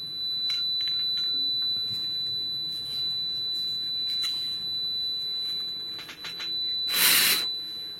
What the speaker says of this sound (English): This was the teardown and the test of the smoke detector.